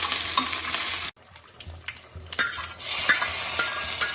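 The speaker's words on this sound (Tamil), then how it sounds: "எண்ணெய் சூடானோடனே கொஞ்சம் கடுகு, கொஞ்சம் கருவேப்பிலை போட்டு தாளிச்சிடலாங்க" Mustard seeds and curry leaves tempering in hot oil for aviyal: a bright, loud sizzle cuts off abruptly, leaving quieter stirring scrapes and pops before the crackle swells back up.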